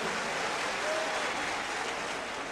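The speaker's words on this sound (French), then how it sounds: "je vous prie de vous applaudir vous-même" Delegates at a political party convention in a hall applaud themselves, a dense, steady wash of clapping from a big crowd heard at moderate distance.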